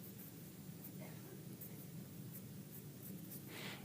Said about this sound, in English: I'm going to turn it upside down and I'm going to write cake.